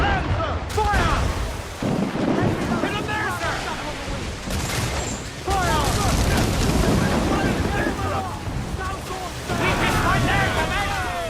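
Ship cannons boom in a naval battle in Assassin's Creed 4 Black Flag, with heavy blasts breaking through loud wind and crashing waves while crew voices shout over the din.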